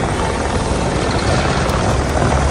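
Helicopters flying overhead, a loud, steady, unbroken rotor and engine drone that fills the whole stretch without letting up.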